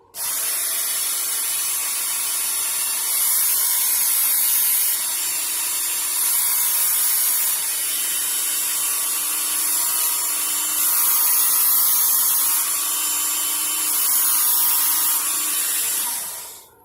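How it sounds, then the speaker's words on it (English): A Work Sharp electric knife sharpener runs with a steady, bright, high-pitched grinding whine that holds for about sixteen seconds, dipping slightly in pitch now and then as the blade is drawn through, then cutting off. "This is a little knife sharpener I've had for a while."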